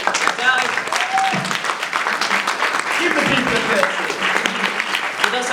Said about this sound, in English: So round of applause for Ali.